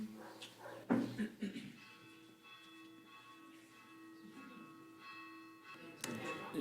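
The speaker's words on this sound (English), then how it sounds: "Whenever I hear the bell" A bell rings with a sustained, ringing metallic tone during a service at a Unitarian Universalist gathering, faint and steady and slowly fading, with soft room noise and a few bumps around it.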